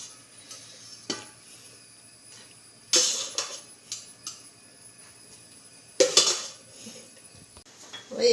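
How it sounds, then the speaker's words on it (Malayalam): Cooked rice goes into a pot of prawn biryani, with sporadic metal clatters and scrapes of a spoon against the pot, a few louder knocks between quieter stirring, close by and with no talking. "വേവിച്ച് വെച്ച ചോറ് ഞാൻ ഇതിലേക്ക് ഇടുകയാണ്"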